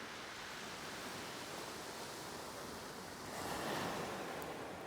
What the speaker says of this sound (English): If you can hear the waves, you're fully in sync with the number of waves flashing in.